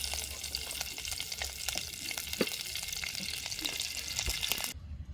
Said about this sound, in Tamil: நான் இந்த எடுத்து வச்சிருக்கிற வெங்காயம் முதல் வதக்குறது கொஞ்சமாக எண்ணெய் சேர்க்கணும்.